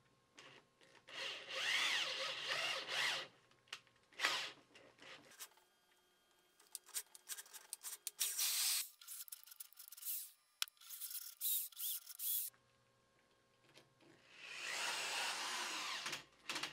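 A power drill whirs in several bursts drilling a hole in metal for tapping on a Gingery shaper, stopping and starting between runs, with quieter pauses and a low hum in between.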